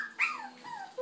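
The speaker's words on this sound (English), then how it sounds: "You're just a crazy little dog." A puppy makes a brief high whimpering, whining sound with a faint growly undertone, close and soft, continuous for about a second.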